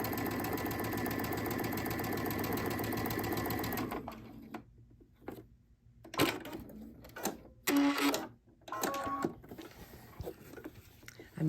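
A domestic sewing machine stitches a dress hem in a steady, fast mechanical whir for about four seconds, then falls into short, irregular bursts of stitching with pauses and soft handling noises between them.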